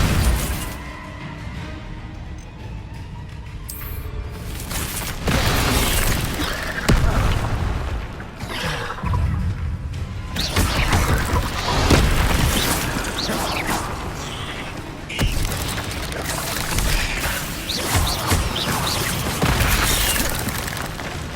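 Incendio fire spells blast in Hogwarts Legacy combat against spiders, a run of loud booming bursts and crashing impacts over a busy mechanical, rumbling game soundscape.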